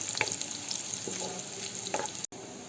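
Onion and chopped garlic fry gently in a pan for khichuri, making a quiet, steady sizzle with a few faint stirring clicks and no voices.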